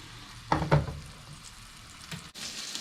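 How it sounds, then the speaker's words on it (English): Burger patty and onions frying on a hot plate, heard as a couple of sharp sizzling bursts and a faint steady crackle, with a clunk near the end; no voices. "Now while I've got my patty, my onions cooking away over there"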